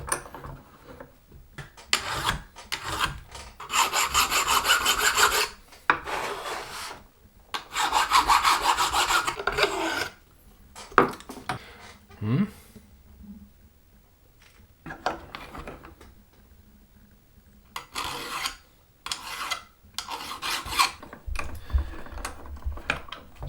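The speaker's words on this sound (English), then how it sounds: "I'll knock down these threads a little bit because they're quite sharp" Hand filing knocks down sharp threads on fittings, producing repeated rasping strokes in several bursts with short pauses between them, close up and fairly loud, with no talking.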